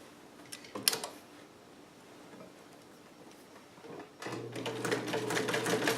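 A vintage Cool Blue Sovereign sewing machine with a 1 amp motor starts up and runs, a steady close whirring hum with rapid ticking needle strokes after a few quiet handling clicks.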